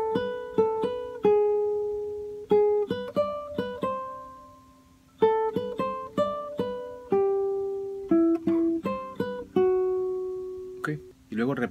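Nylon-sounding guitar picking a melody phrase from a song: clear single notes plucked in short groups with ringing sustains between, close and alone, ending with a quick strum.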